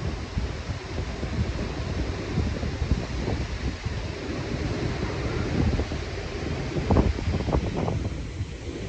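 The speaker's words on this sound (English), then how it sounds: "Look at that wind, the breeze." Wind blows steadily at Ford Falls waterfall on the Gathiba River, a broad loud rush mixed with buffeting against the microphone and a few louder gusts near the end, with no talking.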